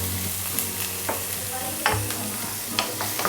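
A large sliced onion fries in butter in a pan for kadai paneer, giving a steady low sizzle broken by occasional utensil scrapes and taps as it is stirred, with no one talking.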